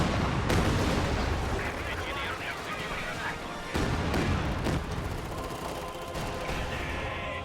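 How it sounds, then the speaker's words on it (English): Katyusha rocket artillery barrage in a World War II strategy game, a steady rumble of overlapping booms and rocket impacts with a couple of sharp louder blasts, while commentary talks over it throughout. "second Katyusha on the field is going to start just pounding away at Cruzz's battle group"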